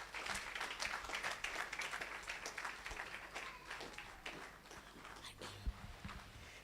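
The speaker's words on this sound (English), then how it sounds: "Another round of applause for her." Audience at a prematurity awareness summit applauding after a speaker, a sustained stretch of clapping that gradually thins out toward the end, with a brief thump near the close.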